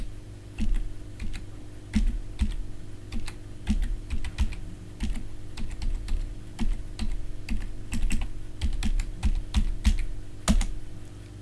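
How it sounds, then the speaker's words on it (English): Someone types a password on a wireless computer keyboard, with quick, close keystrokes in uneven bursts and short pauses, alone and fairly soft. "I'm using a wireless keyboard at the minute"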